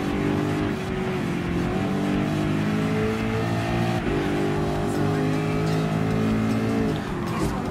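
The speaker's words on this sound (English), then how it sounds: "first time with using the Ford GT LM Spec 2 race test car" Ford GT LM Spec 2 race test car in Gran Turismo Sport, joining a race with Group 3 cars on a new track layout, its engine droning steadily with shifting pitch and rising revs throughout.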